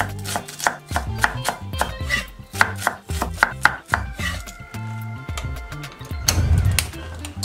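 A knife chops red onion on a cutting board in quick, even strokes, each chop a sharp, close knock in a steady rhythm that slows slightly toward the end.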